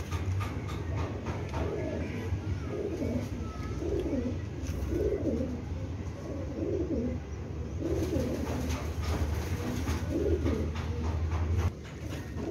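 Chuha-breed pigeons coo nearby in soft repeated phrases over a steady low background rumble, with no talking.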